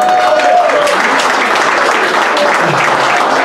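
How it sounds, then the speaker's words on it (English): Loud, dense applause from a crowd at a racing banquet, continuous clapping filling the room at close range, with faint voices mixed in underneath. "let's give it a round of applause to Otis here"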